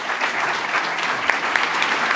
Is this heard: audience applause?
yes